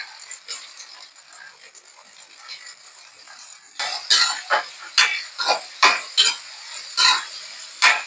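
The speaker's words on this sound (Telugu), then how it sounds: "ఇలాగా మనకి ఆయిల్ కాగుతుంది కదా, ఇందులో మనం ఉల్లిపాయలు పచ్చిమిరపకాయలు వేసుకుంటాం." Onions and green chillies fry in hot oil, with a soft sizzle at first, then sharp, close clinks and scrapes of a utensil stirring the pan in a steady rhythm.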